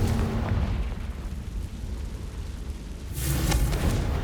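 A Confringo fire spell bursts in Hogwarts Legacy, a deep booming blast landing near the end after a low rumbling stretch, loud and close.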